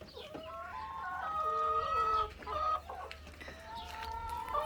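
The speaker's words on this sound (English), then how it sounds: "And then there's the rooster." A rooster and hens in a backyard coop cluck and call in overlapping, warbling phrases, fairly close, with a brief pause midway before the calls resume.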